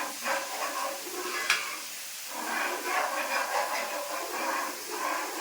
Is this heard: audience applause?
no